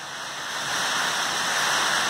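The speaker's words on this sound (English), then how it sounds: "it's raining here. You can hear it" Steady rain patters on a shed roof as an even, close, continuous hiss with no voices.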